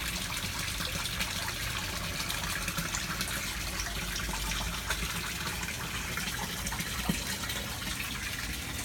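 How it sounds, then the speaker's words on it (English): Water from a waterfall feeding a 1000-gallon backyard koi pond splashes and gushes in a steady, continuous rush, close by and alone with no voices. "This is another waterfall."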